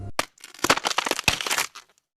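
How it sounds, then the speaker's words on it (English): Bones crunching under a car: a run of sharp, dry cracks and crushing snaps, close and fairly loud, with a few brief pauses between bursts and no talking. "He heard bones crunching under his car."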